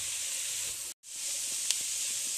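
A steady, bright sizzle of onion, celery and carrot frying in olive oil in a pan, loud and close, briefly cut off and then resuming with faint stirring clicks.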